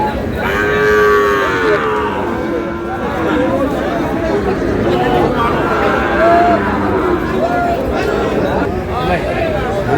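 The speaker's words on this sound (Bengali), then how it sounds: "দেখছিলাম এখানে 4টি গরু দেখছেন।" Sahiwal cattle low repeatedly at a busy cattle market in Dinajpur, the long moos rising over constant crowd chatter and nearby talking.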